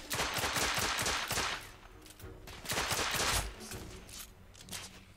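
Rapid pistol fire from the video game The Order: 1886, a quick burst of close, loud shots followed by a pause and a second cluster of reports, with game ambience trailing off.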